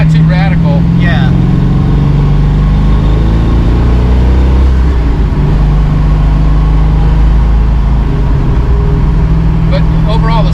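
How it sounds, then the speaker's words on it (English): Shelby Mustang big block V8 driving, a loud, continuous low mechanical rumble with a steady throb heard from inside the car, with people talking over it throughout. "It's got a real mechanical sound to it, the engine too."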